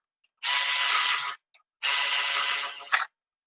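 A ratchet tightens bolts with washers on a supercharger fitted to a Honda Prelude, giving two long, close, rapid clicking runs separated by a short pause.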